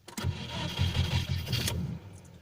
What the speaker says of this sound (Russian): Вот я сейчас заведу автомобиль.